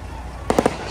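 Bonfire night fireworks at a hotel in Scotland go off in three quick sharp pops over a steady outdoor background, close and fairly loud.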